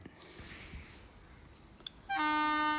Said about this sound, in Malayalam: ട്രെയിൻ വരുന്ന സൗണ്ട് ഭയങ്കരമായിട്ട് കൂടുതൽ സൗണ്ടായിരുന്നു